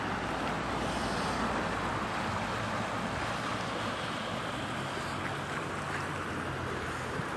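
High water with waves washes and surges continuously outdoors beside a city, mixed with steady wind buffeting the microphone and a low rumbling background; no one speaks.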